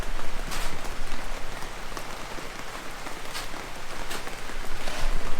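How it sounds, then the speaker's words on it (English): Heavy rainy-season rain at a house and pool build site in the Philippines, pouring steadily as a dense, close hiss of drops drumming on surfaces with no pauses. "it's raining. It's rained all night long."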